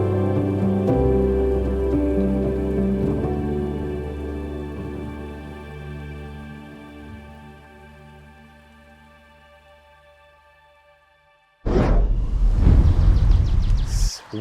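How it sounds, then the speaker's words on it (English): Heavy rain falls on an estate in France, a loud, dense, steady downpour that bursts in near the end after a long, fading tonal passage. "it's raining really harshly"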